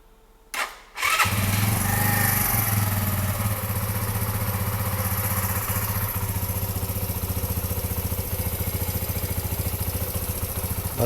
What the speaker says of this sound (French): je vais démarrer la moto.